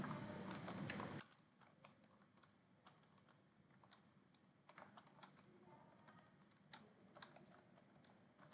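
Typing on a computer keyboard, a steady run of light clicks and taps after a brief louder burst at the start, fairly quiet and with no one talking.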